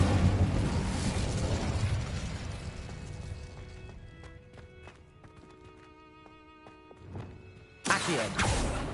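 In Hogwarts Legacy, an Incendio fire spell erupts with a loud roaring whoosh that slowly dies into a low crackle over game music, before a second fiery burst flares up near the end.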